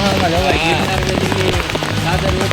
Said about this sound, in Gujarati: જો વરસાદ ધોધમાર વરસાદ પડે આવું હોય તો